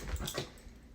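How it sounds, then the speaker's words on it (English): A dog whimpers softly in a few short, high whines, close by, with no talking. "You can hear my dog in the background of this voiceover."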